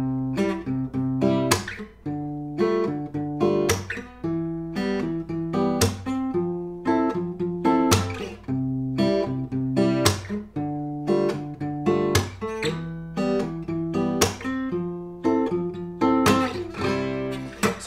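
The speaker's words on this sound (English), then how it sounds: "So more of kind of maybe like a bossa nova type style that we're gonna add a percussive hit to" Fingerstyle acoustic guitar plays chords in a bossa nova-style pattern with a percussive hit on the strings, a steady syncopated rhythm, close and clear with no voices.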